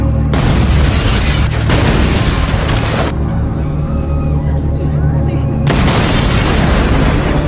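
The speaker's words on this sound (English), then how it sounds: "suddenly, several bombs exploded in the grocery store" Several bombs exploding inside a grocery store in a film scene, loud continuous booming blasts and rumbling debris, with a brief quieter stretch before the roar surges again.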